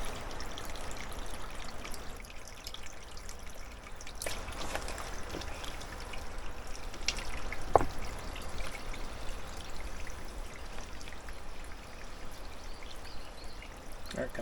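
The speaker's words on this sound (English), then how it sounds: "start seeing water come through the overflow" Water from a filling cabin-supply dam spills through its overflow, making a steady, faint trickling stream with a few small splashes.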